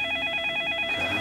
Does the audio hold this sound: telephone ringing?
yes